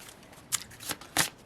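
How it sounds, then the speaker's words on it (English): A deck of tarot cards riffled in three quick, crisp bursts of papery flutter within a second and a half, close and clear with no voices over it. "We're shuffling again."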